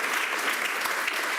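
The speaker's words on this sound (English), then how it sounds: "A round of applause for ENTREPRENEURSHIP." Round of applause from the audience at an inclusive employment and entrepreneurship forum in Madrid, a short, dense burst of many hands clapping at once, even and full, with no speech.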